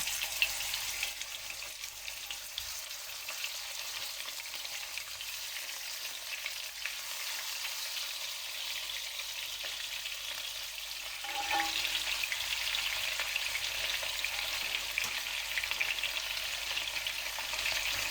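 Meat rolls frying in hot oil in a roasting pan, a steady broad sizzle that runs throughout and swells slightly louder partway through, with no talking.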